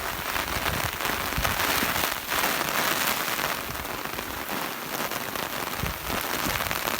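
Heavy storm rain pours down hard and continuously, drumming on surfaces close by with dense, unbroken hiss and scattered louder spatters.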